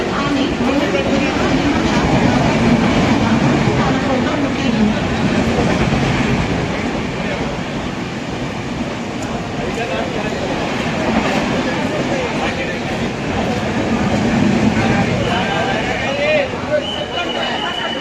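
Mumbai local train at Dombivli station, a steady loud rumble of rolling carriages with clickety-clack wheel rhythm running throughout, crowd babble faintly mixed in.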